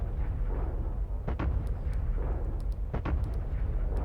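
An artillery gun in Factorio's Space Exploration mod fires a few deep booming shots, roughly two heavy thumps a couple of seconds apart, over a constant low rumbling background.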